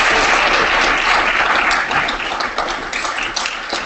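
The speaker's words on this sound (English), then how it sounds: "Can we have a quick round of applause for Brad?" An audience at a live hangout event with investor Brad Feld applauds steadily and loudly for about four seconds, dense clapping that eases slightly toward the end, with no voices over it.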